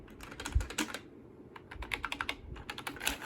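Keystrokes on a chunky AST rubber dome keyboard beside a Compaq ProLinea 4/33, soft close clatter in uneven runs with a brief lull midway, then a faster steady stream of taps.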